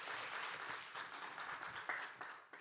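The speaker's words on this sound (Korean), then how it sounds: "먼저 여러분 박수 한번 하겠습니다." A crowd claps during a university chapel service, giving dense, steady applause that holds for a few seconds with a few sharper individual claps near the end.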